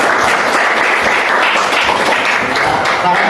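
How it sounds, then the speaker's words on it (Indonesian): A classroom of students applauds with continuous, dense clapping at a loud, even level. It sounds close and lasts the whole stretch, with a faint murmur of voices mixed in. "Tepuk tangan dulu buat semuanya."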